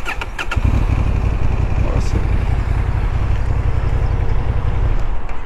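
A 2023 Honda CB750 Hornet motorcycle is started: a brief starter whir and a few clicks, then the engine catches and settles into a loud, steady, close-up idle with a deep rumble that holds to the end.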